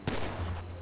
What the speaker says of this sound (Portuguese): dá uma bala só de pistola aí